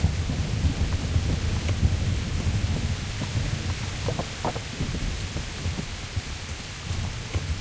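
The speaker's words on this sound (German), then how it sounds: "Donnergeräusch hat gefehlt, aber geblitzt. Ach, da ist es." Thunder rumbles low and long during a rainstorm in the video game Kingdom Come: Deliverance, a steady wash of rain underneath with a few sharper cracks partway through and no talk.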